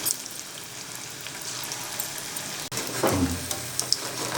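Small rice-flour punugulu fritters frying in hot oil in a pan, a steady close sizzle with a burst of fresh crackling partway through as more batter goes in.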